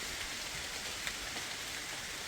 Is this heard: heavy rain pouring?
yes